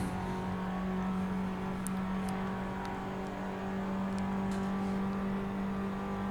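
A race car engine in the Assetto Corsa racing game holds a steady drone with a constant hum, revving faintly at a distance, with no talk over it.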